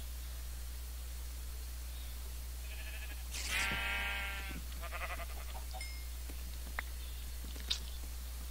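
A sheep wearing a hat bleats once in a jungle area of a Minecraft-style game, a short wavering call heard clearly over a steady low hum, followed by a few faint clicks.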